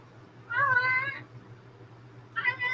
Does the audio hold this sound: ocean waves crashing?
no